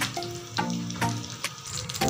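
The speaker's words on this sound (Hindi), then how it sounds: "ये देखिए ऐसे ही हम बाकी के भी बोंडे डीप फ्राई कर लेंगे।" Aloo bondas deep frying in hot oil in a kadai, a steady bubbling sizzle with a few sharper crackles and pops rising through it, close and moderately loud with no talking.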